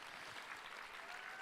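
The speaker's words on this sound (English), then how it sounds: "Give them a big round of applause" Faint, even applause from an audience at a charity gala auction sounds like a constant wash of many hands clapping, heard from a distance.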